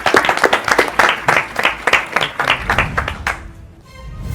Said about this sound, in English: Kindly give yourselves a round of applause.